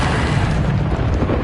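Bombarda spell explosion in a Hogwarts video game: a loud, dense booming blast with a deep rumbling roar that fills the whole short moment without letup.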